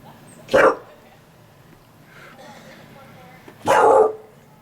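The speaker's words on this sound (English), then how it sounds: "Gus was barking" A dog barks twice, loud and close, in two short bursts about three seconds apart, with quiet background between them.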